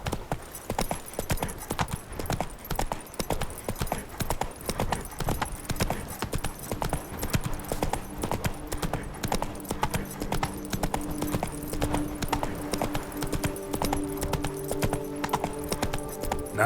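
Roach the horse's hooves clip-clop steadily in The Witcher 3, a continuous rhythmic trot that stays close and clear over the whole stretch, with game music and ambience underneath.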